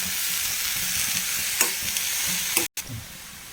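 A spoon stirs a simmering prawn and mango curry in a pan on the stove over a steady close sizzle. A few scraping strokes come through, with a brief cut near the end and no speech.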